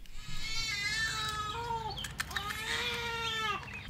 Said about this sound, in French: Désolé pour les bruits, je crois que le chat avait mangé un truc pas bon.